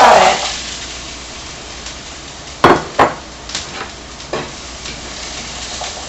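Frozen meatballs hit a hot frying pan for Swedish meatballs, giving a steady sizzle with a few sharp clatters and knocks of the pan partway through.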